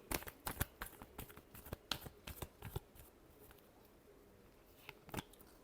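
Tarot cards are shuffled by hand at close range in a series of quick crisp riffles and slaps, busy at first and then trailing off into a few isolated snaps, with no talking.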